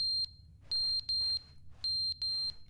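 A smoke alarm in The Stanley Parable: Ultra Deluxe chirps in loud, piercing electronic beeps, one single and then quick pairs, over a faint low hum.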